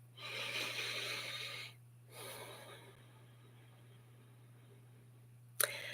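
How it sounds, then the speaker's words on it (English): A slow, deep inhale followed by a long, soft exhale, close and breathy in a quiet room with a low steady hum, ending with a faint click. "take a deep, nourishing breath with me"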